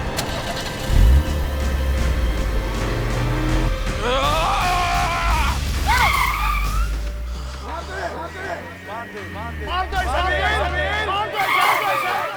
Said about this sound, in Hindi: गाड़ी स्टार्ट हो जाए।